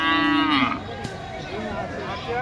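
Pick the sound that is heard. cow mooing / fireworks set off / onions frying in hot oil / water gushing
cow mooing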